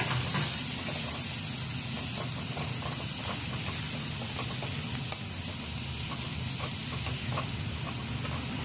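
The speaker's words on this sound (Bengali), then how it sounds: "পেঁয়াজটাকে একটু ভাজা করতে হবে।" Chopped onions fry in a pan for a prawn do-pyaza, a steady sizzle with faint stirring scrapes, close and even throughout with no talk.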